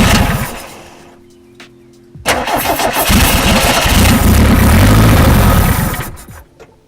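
An NSU car engine struggling with a running fault: a quiet starter crank, then the engine catches with a sudden roar and runs loudly and roughly for several seconds before dying away.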